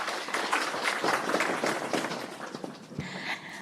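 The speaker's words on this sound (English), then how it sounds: "let's give him another round of applause" Audience applause at a high-level stakeholder engagement event, a dense wash of clapping that holds steady for several seconds and thins slightly toward the end.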